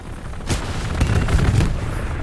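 A rocket launcher fires in Hell Let Loose, a deep booming blast followed by a cluster of sharp cracks and rumbling impacts, loud and close over a noisy battlefield.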